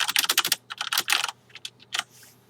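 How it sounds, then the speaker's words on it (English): Close, crisp keystrokes on a computer keyboard come as typing notes into a ticketing system, in an irregular flurry of quick taps with short pauses. "you can type out the contents of your notes."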